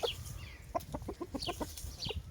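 A hen of an Asil fighting breed, mother of a rooster, gives a string of soft, close clucks and short calls in a farmyard, with no talking.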